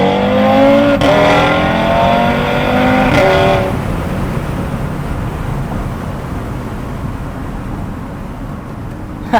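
A car engine revs hard and accelerates in one strong pull, loud and close with rising harmonic sweeps for about four seconds, then settles into a steady lower roar of cabin and road noise.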